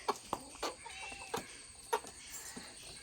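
Chickens cluck inside a coop at dawn, a scatter of short, nearby clucks and squawks in an irregular rhythm over quiet background.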